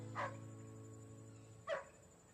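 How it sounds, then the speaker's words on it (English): A dog gives two separate barks about a second and a half apart, fairly close, over a steady low hum with no voices. "Mary Jo, call off the dog."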